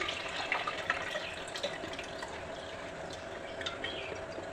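Water drains through a sieve into a pot below, trickling and splashing steadily with small clinks and drips, a continuous gentle flow without voices.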